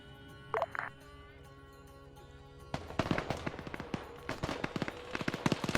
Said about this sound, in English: Cap Malin already firing a few AA rounds his way.